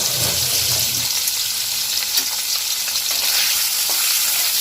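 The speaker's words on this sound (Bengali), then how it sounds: "পনিরগুলো দিয়ে দিচ্ছি তো এই যে এক মিনিট নেড়ে চেড়ে আমি তুলে দেব" Paneer pieces fry in mustard oil in a pan, a steady loud sizzle running throughout with scraping stirs and faint clinks near the start and scattered through.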